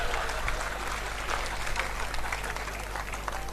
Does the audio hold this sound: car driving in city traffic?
no